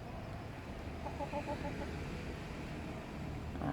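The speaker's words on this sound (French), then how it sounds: "c'est une mise au point entre poules" Hens squabble in a dispute over dominance in a backyard coop holding Bielefelder and Malines chickens, giving a short run of faint, quick clucks and squawks over low outdoor background noise.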